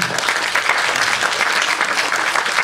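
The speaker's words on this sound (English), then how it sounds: "A big round of applause to them." Steady applause from a seminar audience welcoming food truck owner guests on stage, dense and even throughout without a break.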